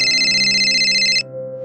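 A phone ringtone warbles loudly in a steady, repeating electronic pattern for just over a second, then cuts off abruptly and leaves only a low hum.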